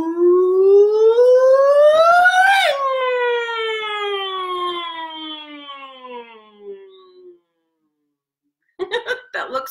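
A person's voice imitates a siren during a vocal warm-up exercise, sliding up to a high peak and then gliding slowly down, loud and sustained, followed by brief vocal sounds after a pause.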